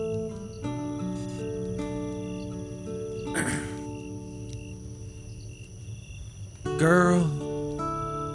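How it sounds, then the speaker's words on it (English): Crickets chirp steadily through a relaxing campfire guitar recording, the insect trill sitting behind sustained tonal music, with a brief louder burst near the end. "it's got some crickets"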